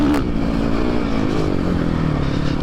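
A Suzuki RMZ450 motocross bike's engine runs steadily at close range, holding a droning, even tone as the rider feathers the cable clutch to keep power down, with some mechanical clatter.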